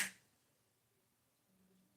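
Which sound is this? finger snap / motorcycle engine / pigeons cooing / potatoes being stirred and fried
finger snap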